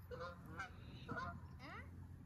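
Several geese honk in a series of loud, nasal calls close by, with a few overlapping bursts and a low background rumble underneath.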